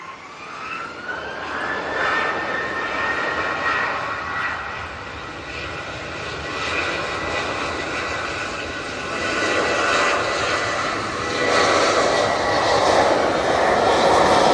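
An Emirates Airbus A380 airliner on approach with gear down, a loud, sustained jet engine roar with a rising whine, building steadily as the aircraft nears, with no talking.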